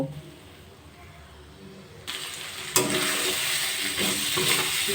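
Potato, cucumber, spices and tomato being sautéed together in a pan, a steady sizzle with scraping stirring that grows louder partway through as the heat picks up.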